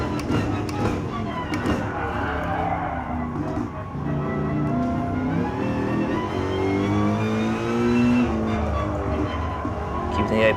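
Race car engine in Gran Turismo Sport at the Nürburgring, revving loud and continuous with rising and falling pitch as gears shift into braking, with a voice talking over it throughout.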